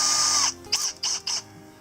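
A cordless drill driving a screw through 3/4-inch plywood into a 2x4 while installing a Werner compact attic ladder, a long whine followed by three short bursts, close and clear.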